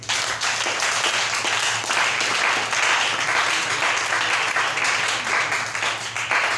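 Church congregation applauding, a dense, steady roar of many hands clapping together that fills the whole stretch at close, loud level with no pauses.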